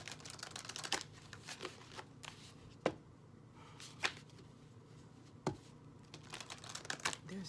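Soft, irregular riffling and tapping of tarot cards being shuffled up close, with sharper snaps now and then over a quiet background.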